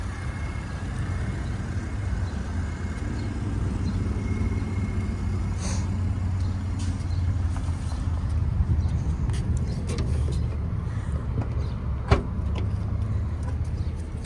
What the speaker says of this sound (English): Does have the power hatch.